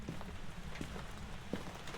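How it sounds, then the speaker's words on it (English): Rain falls on a house in Phasmophobia, a soft, steady patter and hiss with a few scattered louder drips, faint and continuous with no voices. "It is noticeably weird how with this house you can hear a lot of the rain coming through."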